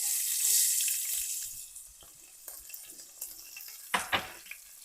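Green chillies and cumin fry in hot oil for a cauliflower curry, giving a loud hissing sizzle that eases after the first second, with a few close utensil clinks and scrapes near the end.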